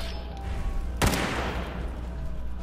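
Turret gunfire in Fallout 4, a single sharp burst of shots that sets off a rolling rumble, heard close against a steady background hum.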